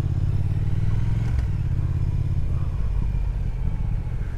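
A 2018 Triumph Thruxton R parallel-twin motorcycle being ridden through London, its engine giving a loud, steady low rumble close by, with one brief clattering knock partway through and no speech.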